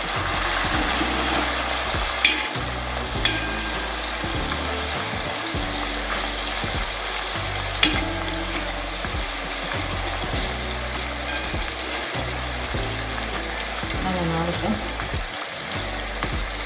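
Fish pieces frying in hot oil in a pan for a fish pickle, a constant loud sizzle and crackle with occasional scraping stirs and light clinks of the utensil, close by and steady throughout.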